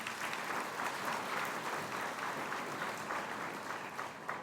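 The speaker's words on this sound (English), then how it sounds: "Let's give him a round of applause." Audience at a summer college graduation ceremony clapping steadily, a dense even patter of many hands that holds at moderate level for several seconds.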